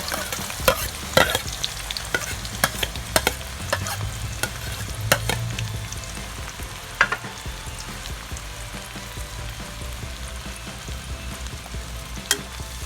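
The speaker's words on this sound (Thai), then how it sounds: "เดี๋ยวเราไปเจียวหัวหอมกันนะคะ ใช้น้ำมันเดิมเลยค่ะ" Shallots fry in leftover pork-crackling oil with a constant soft sizzle, punctuated by irregular sharp taps and scrapes of a utensil stirring in the pan, no voices present.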